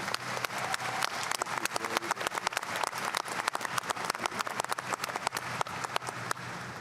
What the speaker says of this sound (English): So how about a round of applause for our faculty?